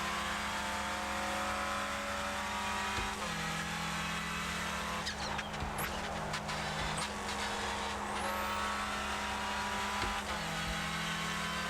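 A Renault Clio race car in the Clio Cup on iRacing drones steadily at high revs, the engine note holding and then shifting pitch as gears change, with faint tyre noise and no talking.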